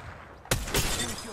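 Sudden sharp gunfire in the video game Apex Legends breaks out mid-clip, a loud burst of shots with a cracking, shattering edge over steady background game noise.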